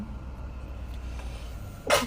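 A girl lets out a single sharp sneeze near the end during an allergy attack inside a car, set against a steady low cabin rumble.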